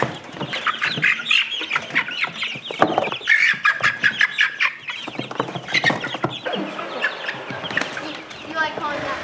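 Several chickens cluck and squawk close by in a busy, overlapping chorus that continues throughout, with no clear pauses.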